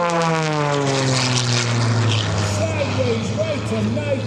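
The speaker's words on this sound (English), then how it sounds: "This is one airplane, and when you start yanking on the stick, you better be serious about it." MXS aerobatic airplane at an airshow, a loud propeller engine roar with strong harmonic drone that climbs and bends in pitch as it maneuvers, heard close with no one speaking.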